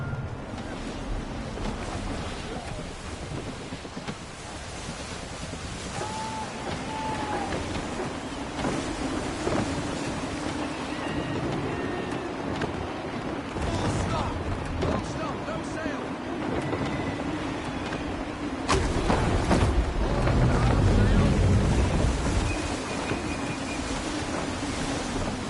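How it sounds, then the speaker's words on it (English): Gusty wind at sea in Assassin's Creed 3, a steady broadband rush with waves and creaking over water, swelling louder near the end, with faint voices in the background. "Gusty winds can be difficult to manage."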